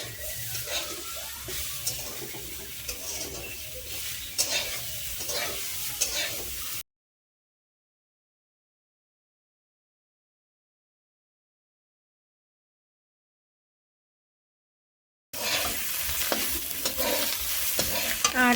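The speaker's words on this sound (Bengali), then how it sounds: "এখন আমি এই যে ভাজা বসিয়েছি, এখানে রয়েছে গাজর, সিম, মটরশুঁটি আর পেঁয়াজের কালি," Carrots, beans, peas and onion stir-fried in a pan, with a continuous close sizzle and scraping stirring strokes, cut off by a long silent gap before the frying resumes.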